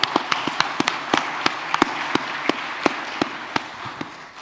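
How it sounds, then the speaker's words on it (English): Conference audience applauding panelists after a session, heard as a thin, sparse patter of individual claps at a steady rhythm rather than a full ovation. "Big applause to our panelists."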